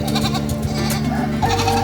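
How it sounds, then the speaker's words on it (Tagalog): A goat bleats in sustained, wavering cries amid a busy livestock market hum with ducks nearby, close and fairly loud. "Kambing na may kasamang mga bibe."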